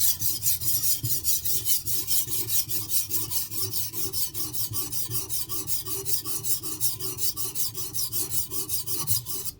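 A knife blade is drawn repeatedly across a sharpening stone, producing a rapid, regular rasping stroke after stroke, close and fairly loud with no voices.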